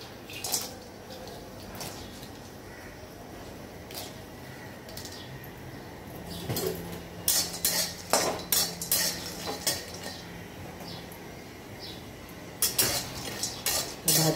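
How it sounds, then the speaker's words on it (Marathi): Black cardamom pods dry-roast in a pan for ghati masala, with a spatula scraping and clinking against the metal in sparse strokes that become quicker, louder clusters later on. "सगळ्यात आधी आपण मोठी वेलची भाजून घेऊया."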